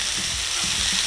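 Bacon cheese smash burger patties sizzle loudly on a flat-top griddle right after flipping, a dense close hiss with faint low scraping underneath and no talk.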